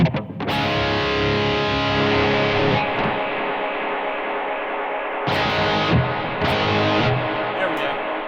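A distorted electric guitar through a Blackstar ID:Core 20 V3 amp rings out with sustained chords drenched in delay and reverb, loud and close, with a couple of sharp restrikes near the end.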